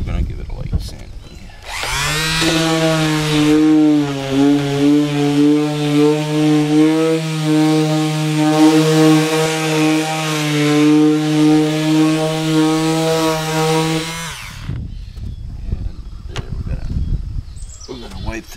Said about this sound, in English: We've applied a second coat of spackling compound to the module, and so now we're going to give it a light sanding.